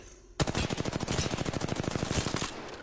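Automatic gunfire in a video game, a long rapid burst of evenly spaced shots that starts abruptly and runs for about two seconds, loud and close, with no talk over it.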